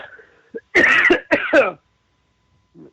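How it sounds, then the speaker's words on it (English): A person coughs a few times in quick succession, close by, with a faint throat sound before and a short quiet pause after. "bad time for me to start coughing"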